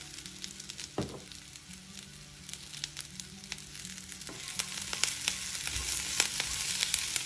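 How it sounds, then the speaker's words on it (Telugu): Freshly grated coconut frying with curry leaves in a pan for a curry leaf chutney, giving a steady close sizzle with crackles and an occasional spoon scrape or stir. "కరివేపాకు ఇలా కాస్త వేగాక పచ్చి కొబ్బరి తురుము దీనిలో వేసి వేయించుకుందాం."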